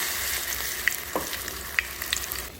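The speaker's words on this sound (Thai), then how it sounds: "ชุบแป้งทอดลงไปก่อน" Battered pieces being lowered into hot oil for deep frying, with a steady close sizzle and bubbling running throughout and a few sharp clicks and pops on top, with no voices.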